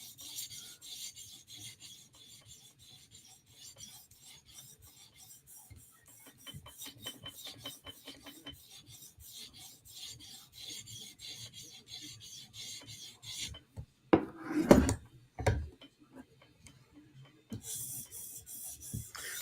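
Chris Reeve Inkosi knife blade stroked across a CBN 400 grit stone on a TSProf Kadet guided sharpener, giving a steady run of fine, dry rasping passes with a brief louder scrape burst near the end.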